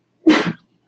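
A single short sneeze, close and fairly loud, in otherwise quiet surroundings.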